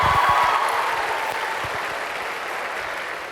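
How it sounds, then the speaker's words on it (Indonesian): An audience at UNAS in Indonesia breaks into loud, dense applause that starts strong and gradually eases off, steady clapping filling the space with no talking over it. "Kita berikan aplaus untuk kita semua ya."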